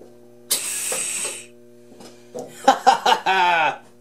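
A G4000 lathe with a thread-cutting gear setup runs in short mechanical bursts, a ratcheting whir that starts, stops and returns louder with rapid clattering pulses, close by with no one talking.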